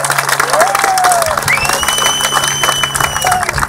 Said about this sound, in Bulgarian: Аплодисменти за победителите в четвърката склон.